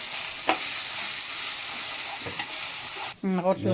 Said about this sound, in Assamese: এতিয়া এইটো আমি 1 মিনিট আমি ভাজিম, যাতে আদা নহৰু স্মেলটো নোহোৱা হৈ যায়